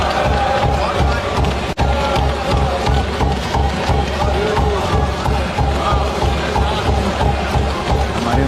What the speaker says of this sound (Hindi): हमारे मोदी जी की तालियां बजा रहे हैं वहां पे।